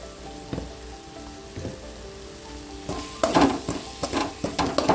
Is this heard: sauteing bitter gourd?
yes